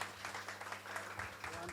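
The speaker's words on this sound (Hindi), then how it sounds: "प्रवीण सर के लिए एक जोरदार तालियां" Brief applause at a gathering marking a girls cricket tour, clapping from an audience heard under a voice speaking through a humming sound system, short and fairly faint.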